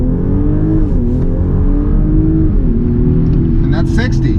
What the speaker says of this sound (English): get a quick launch control on this thing real quick before we head out